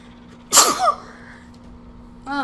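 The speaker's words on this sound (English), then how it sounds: "Oh, I'm gonna sneeze." A single sharp sneeze bursts out loud and close, followed by a brief breathy tail, then quiet room tone and a faint voice starting at the end.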